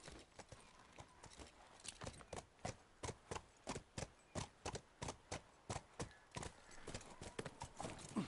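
Horse hooves clip-clopping in The Last of Us, a steady walking rhythm of crisp, evenly spaced hoofbeats that stay fairly faint. No one speaks over them.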